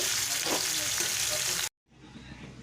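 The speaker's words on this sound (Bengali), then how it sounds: "বেরেস্তা দেখো বেরেস্তা সুন্দর করে আগে ভেজে নেব" Loud, steady sizzling of onions frying in hot oil for birista, cut off abruptly before resuming more quietly.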